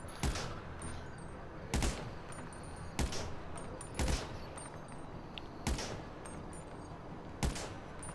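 Gunfire in the video game GTA comes as sharp, evenly spaced single shots, about seven in eight seconds, each a crisp bang standing out over quiet game background.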